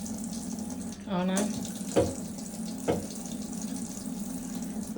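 Tap water runs in a steady splashing stream while a baby bat is bathed, with a few short spoken words over the flow.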